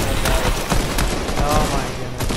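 Rapid bursts of video game gunfire fired at a car in Fortnite, dense and continuous across the moment, with voices talking over the shooting.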